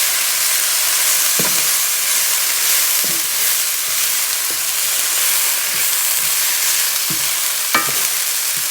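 Vegetables and meat stir-frying in hot oil, with a loud, steady hiss of sizzling that never lets up and occasional clanks of a spatula stirring the pan. It is up close and has no talking.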